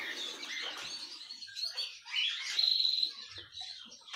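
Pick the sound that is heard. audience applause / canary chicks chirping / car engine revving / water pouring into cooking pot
canary chicks chirping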